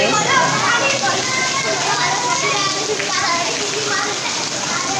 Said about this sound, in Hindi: बहुत अच्छी तेज़ बारिश हो रही है ना।